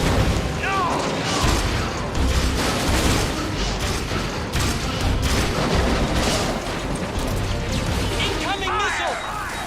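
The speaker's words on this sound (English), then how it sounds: "Incoming missile." Missile explosion in Metal Gear Solid 4 gameplay: a dense, continuous roar of crashing blasts and impacts fills the scene, loud throughout, with voices talking over the din.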